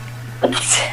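A single sharp sneeze bursts out suddenly, close and loud, against a faint steady hum.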